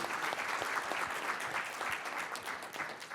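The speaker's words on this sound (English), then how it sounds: "Give her a round of applause." Audience at a university pitch competition gives sustained, lively applause, dense overlapping claps at moderate distance with no talking.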